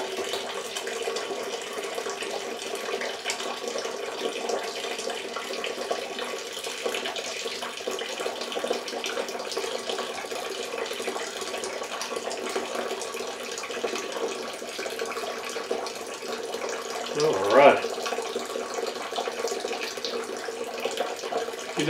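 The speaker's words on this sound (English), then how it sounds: "and then I will put some more water in here, and then I'll give it a good stir." Water pours steadily into a mash vessel while bourbon mash is being made, a constant close rushing flow with a brief splash or clunk near the end.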